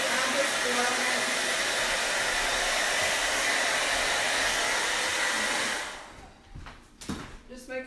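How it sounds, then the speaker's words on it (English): A hair dryer blows steadily and loudly for about six seconds, drying a craft votive holder, then shuts off, leaving a few soft clicks and handling sounds. "I'm just gonna blow it real good with the blow dryer real quick."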